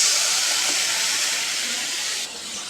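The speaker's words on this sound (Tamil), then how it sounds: "நம்ம கட் பண்ணி வச்சுருந்த தக்காளியை சேர்த்துக்கலாம்" Chopped tomatoes hit a hot pan for tomato soup, sending up a loud, close, continuous hissing sizzle that drops in intensity near the end.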